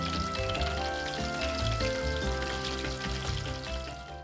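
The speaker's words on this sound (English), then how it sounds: "Deep fry them for 2-3 minutes until cooked golden brown." Breaded prawns deep frying in hot oil, a continuous dense sizzle and crackle at moderate volume, with music playing underneath throughout.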